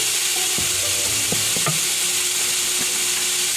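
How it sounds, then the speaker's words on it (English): Salsa and cream cheese sizzle loudly in a pan as a steady hiss, with a few spoon scrapes and knocks while being stirred; no talking. "that salsa is going to get a little loud"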